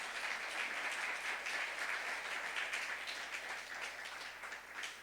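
Congregational applause fills a church during a youth-group sermon, a dense, steady wash of many hands clapping at moderate distance, sustained evenly for several seconds without speech.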